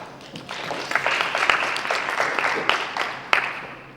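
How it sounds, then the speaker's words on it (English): An audience at a construction industry summit applauds to welcome a product presenter, a dense, moderately loud wash of clapping with a few sharp louder claps, and no voices over it. "Everybody give him a round of applause."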